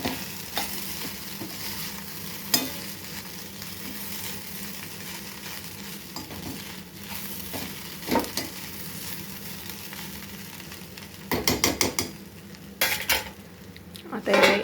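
Poha being stirred and steamed in a pan gives a soft continuous sizzle, broken by scraping and clinking of a spoon against the metal, with bursts of busier stirring toward the end.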